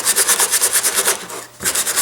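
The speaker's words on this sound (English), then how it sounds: "I simply use my sanding block with 60 grit sandpaper" Sanding block loaded with 60 grit sandpaper roughing up the fiberglass surface of a high power rocket fin, a steady rhythmic back-and-forth rasping of about eight strokes, close and fairly loud, with a brief pause before scrubbing resumes.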